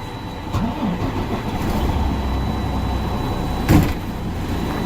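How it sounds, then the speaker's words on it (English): A truck engine cranks and catches, then settles into a steady idle, preceded by a brief clunk and followed by a sharp knock partway through, loud and close with no talking. "then you're gonna start the truck."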